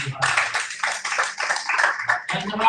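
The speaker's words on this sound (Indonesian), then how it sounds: "Dewasa dan berikan tepuk tangan untuk Tuhan." A church congregation claps, a dense patter of applause that runs under and alongside a loud voice speaking to the crowd.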